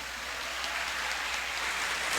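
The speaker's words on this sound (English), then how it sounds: "can you give a round of applause to your parents?" A large audience at a senior high school graduation ceremony claps for the graduates' parents, a dense, steady wash of applause that carries through without a break.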